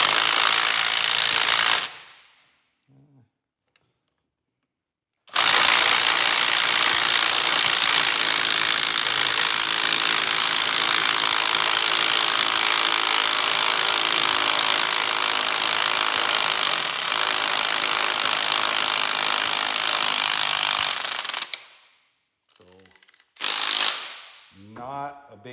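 An impact wrench rattles a Mopar alternator pulley loose during a pulley swap. It sounds as one loud, continuous hammering burst of about sixteen seconds, followed by a few short, quieter bumps and clatters.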